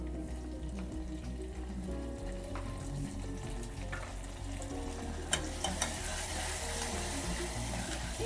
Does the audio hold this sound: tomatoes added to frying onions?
yes